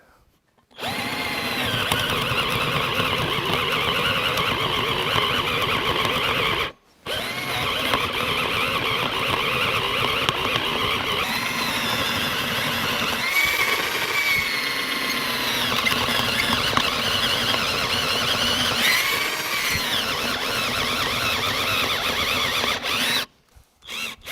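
A cheap cordless power drill whirs loudly and continuously, its motor pitch shifting under load, with two brief pauses where it stops and restarts.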